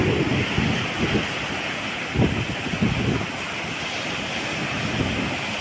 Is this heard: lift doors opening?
no